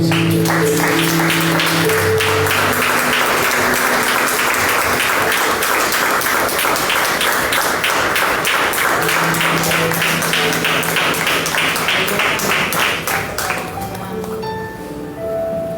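Church congregation applauding during a service, a loud, sustained burst of many hands clapping with a rhythmic pulse, voices calling out over it, and the clapping tapering off near the end.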